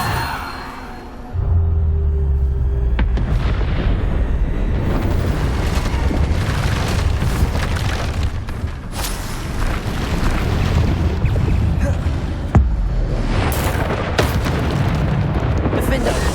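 Bombarda spell explosions in Hogwarts Legacy boom repeatedly over a dense, continuous rumble of combat, with sharp bursts scattered throughout and voices under the action.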